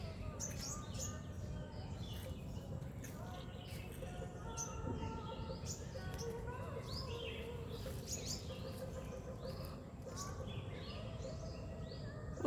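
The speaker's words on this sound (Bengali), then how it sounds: "কি সুন্দর টুনটুনি পাখিগুলো ডাকছে।" Tailorbirds call from inside a bush in a rural yard. Their repeated sharp chirps and tweets are moderately close and come in bursts over a low background, and a voice is heard now and then.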